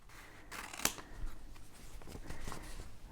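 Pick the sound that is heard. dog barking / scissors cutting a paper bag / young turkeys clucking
scissors cutting a paper bag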